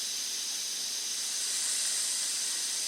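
Compressed air hissing steadily through a barely cracked valve while pushing grease out of a Jeep Wrangler differential, a close, even, bright hiss with no talk.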